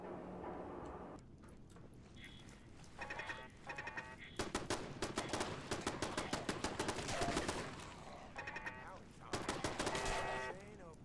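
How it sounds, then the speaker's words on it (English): Automatic turrets in Fallout 4 at the Corvega power plant fire repeated rapid bursts of gunfire, loud and close, in several separate volleys with short pauses between them over a game soundtrack. "Unless you know that there are turrets here, they will automatically shoot anything that's nearby."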